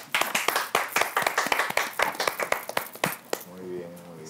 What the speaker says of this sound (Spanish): Vamos a recibirlo con aplauso